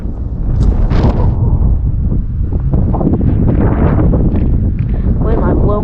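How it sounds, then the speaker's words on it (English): Strong wind from a severe storm with 60 mph gusts buffets a microphone outdoors on a slick, muddy road. It roars loud and constant throughout, and a person talks over it. "Wind might blow me down in the mud."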